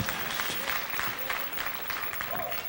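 Church congregation at a Sunday evening service clapping their hands, a loose, moderately loud patter of many claps with faint voices mixed in, some sharper bursts rising and falling across the short stretch.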